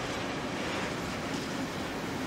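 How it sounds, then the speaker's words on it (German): A green double locomotive sits at a railway station platform, giving off a steady, loud rumbling train noise that fills the short stretch without a break. "Hier fällt als erstes eine grüne Doppellokomotive auf, die wohl auf Arbeit wartet"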